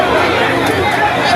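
Dense crowd chatter on a busy Lagos Island street, a continuous loud babble of many overlapping voices close by with no single voice standing out.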